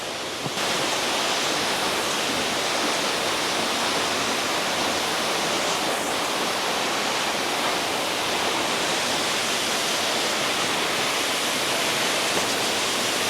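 A waterfall on Nosy Be roars as a loud, steady broadband rush of falling water, unbroken and without voices throughout.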